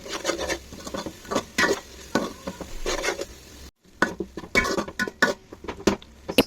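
Spices and chili powder fry in a pan while a spatula scrapes and stirs in quick, uneven strokes, with a light sizzle beneath and a brief pause midway.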